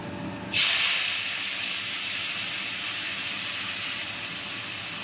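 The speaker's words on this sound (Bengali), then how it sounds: "নিম পাতাগুলো আমি একটু তেলে ভাজবো।" Neem leaves hit hot oil with a sudden loud hiss, then settle into a steady, close sizzle that fades slightly toward the end, with no talking.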